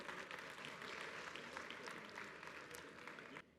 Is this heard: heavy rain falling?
no